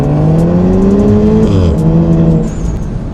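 A Volkswagen Golf R MK 7.5 with a 7-speed DSG gearbox accelerates hard, its loud engine note climbing steadily through the revs with a shift partway through, then easing off slightly near the end.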